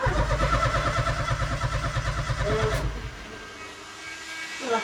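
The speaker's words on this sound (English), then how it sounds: "Ignition's on. Crank it over." A car engine cranks over on the starter with a fast, even chugging rhythm for about three seconds, then stops, leaving quiet background.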